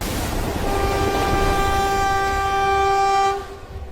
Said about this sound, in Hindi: हमारी ट्रेन तो ऑटोमेटिक चल रही है